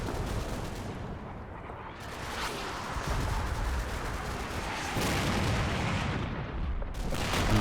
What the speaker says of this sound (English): They're still putting artillery into back lines